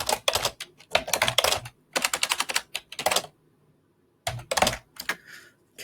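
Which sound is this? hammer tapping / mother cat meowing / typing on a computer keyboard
typing on a computer keyboard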